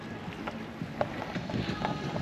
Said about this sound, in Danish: Sådan okay med vind, en 4-5 meter i sekundet, så vi har sejlet for sejl.